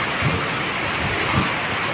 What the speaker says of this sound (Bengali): প্রচুর বৃষ্টি আমাদের এইদিকে বন্ধুরা।